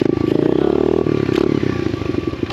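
An SSR 125 pit bike engine idles to warm up, giving a close, loud, continuous putter with a slightly uneven, clattery pulse.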